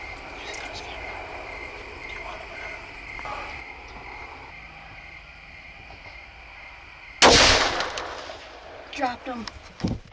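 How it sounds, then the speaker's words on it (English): A single loud, sharp rifle shot rings out at a deer during an evening hunt in Michigan woods, its report decaying over a few seconds. Crickets or frogs chirp steadily before it, and a few smaller knocks follow. "Well, Landon made a great shot"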